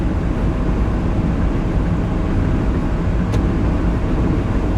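Car engine droning steadily at close range, rough and uneven as the car lurches into gear, with a faint brief click partway through; no talking.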